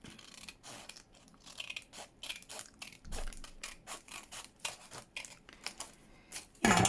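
Irregular crisp snips and crunches of scissors cutting through a stiff plastic CD case, some sharp and close, with brief pauses between cuts.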